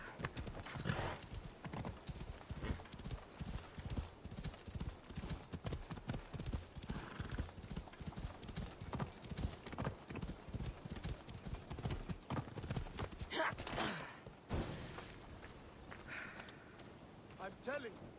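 Horse hooves clip-clop in a steady galloping rhythm in Assassin's Creed Odyssey, with whinnies and game sounds, loud and close throughout, while a voice speaks briefly over it.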